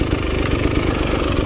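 A hard enduro motorcycle engine runs in second gear with a steady, loud, throbbing mid-range drone and no pause over the short stretch.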